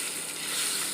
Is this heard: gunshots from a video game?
no